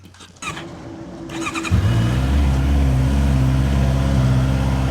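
A Honda motorcycle engine starting up with a short crank, then settling into a loud, steady, deep idle close by, with no voices.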